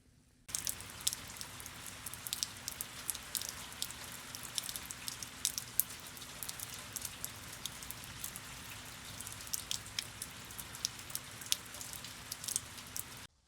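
Steady rain patters on tarps stretched over a sloped boat, with scattered sharp drops striking the covering throughout, fairly quiet and close, with no voices.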